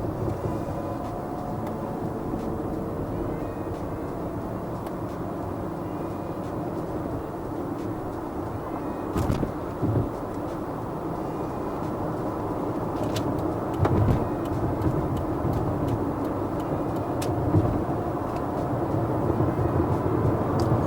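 Mercedes S-Class on the road merging onto a freeway, giving a steady, loud cabin rumble of road and engine noise with a few faint knocks and bumps and no speech.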